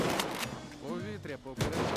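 Gunshots ring out in the video game S.T.A.L.K.E.R. 2, a few sharp reports scattered over a couple of seconds, mixed with voices talking over them.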